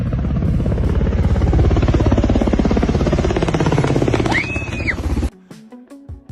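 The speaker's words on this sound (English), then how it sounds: "it seems like, the military helicopter flew by" A military helicopter passes close by with a loud, rapid rotor chop over a heavy engine drone. The noise holds strong for about five seconds, fades slightly, then cuts off abruptly, leaving a few quiet sounds behind.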